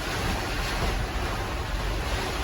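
Strong wind from a July thunderstorm roars and buffets against the microphone in a constant, heavy rush of noise, loud and close, with no voices.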